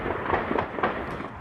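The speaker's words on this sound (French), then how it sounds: "puis des échanges de tirs." Gunfire exchanged during a police assault on a building in Dammartin-en-Goële: several sharp cracks and pops in an irregular burst over a steady noisy background, fairly distant-sounding and with no talk.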